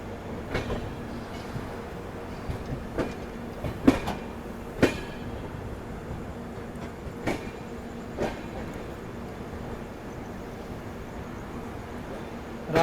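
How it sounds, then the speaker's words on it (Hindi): Superfast express train running on rails at night on the Mumbai LTT to Gorakhpur route, a steady rumbling roll heard from inside a coach with repeated clicking wheel beats over rail joints and occasional sharper knocks. "धीरे धीरे हमारी ट्रेन अपने गंतव्य स्थान तक बढ़ रही है।"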